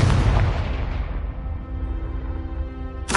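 Confringo fire spell explosion in Hogwarts Legacy, a loud deep boom that rumbles and fades over a few seconds, followed by a sharp burst at the end.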